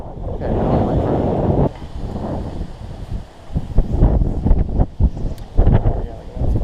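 Wind buffets the microphone on a fishing boat on the St. Johns River, a heavy rumbling rush that eases partway through, with people talking nearby and water sounds beneath.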